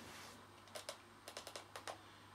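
Typing on a small keyboard of a Pocket C.H.I.P handheld computer: faint, quick key clicks in short bursts, a pair then a run of five or six taps, over a steady low hum.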